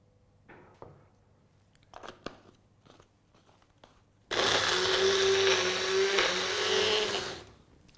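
A blender grinds garlic and chili chutney, roaring on loudly for a few seconds after some scattered clicks and handling knocks, then winding down.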